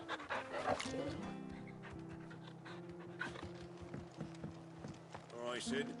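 Torgal, the dog companion in Final Fantasy XVI, panting softly in quick rhythmic breaths alongside hoof clip-clops, under music and a speaking voice.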